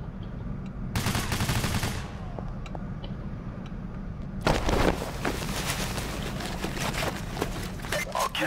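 Video game gunfire from the Payday heist game comes in two loud bursts of rapid automatic shots, one short and one longer. Faint background sound and voices sit between them.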